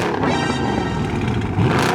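A 2017 Dodge Charger R/T with its V8 engine revving loudly up close, a continuous rumbling roar that swells near the end, with no one speaking.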